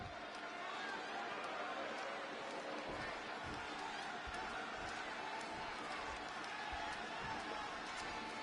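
Arena crowd in Chicago in the WWE 2K26 wrestling game, a steady wash of roaring and cheering that holds throughout, faint and far off, with a few thumps under it.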